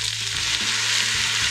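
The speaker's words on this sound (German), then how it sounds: "dass das Tomatenmark angeschwitzt wird" Tomato paste sautés in a pot for a Greek bean soup, a steady close sizzle with soft stirring scrapes running throughout.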